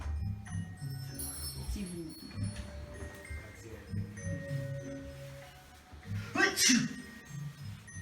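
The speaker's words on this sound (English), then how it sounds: "The smell of hops makes you sneeze?" A sharp sneeze bursts out partway through, heard over low background talking and light room noise.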